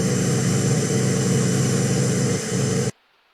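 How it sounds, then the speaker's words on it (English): Downloaded TV static sound effect used for a television in a tiny room simulator game: a loud, steady, dense hiss lasting about three seconds, then cut off abruptly into silence. "So it kind of sounds like a TV static."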